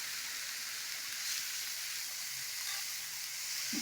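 Cabbage and fried potatoes sautéing in a pan for a Bengali fish-head cabbage dish, giving a steady, soft hissing sizzle throughout with occasional faint bubbling pops.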